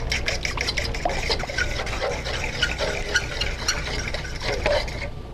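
A fork beats eggs in a bowl for pasta dough, a steady run of quick wet clicks and sloshing close by, with no voices.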